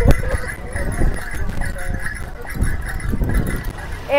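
A horse ridden at a slow pace by a tourist at Kanyakumari gives irregular clip-clopping hoof beats, close and moderately loud, mixed with people talking nearby.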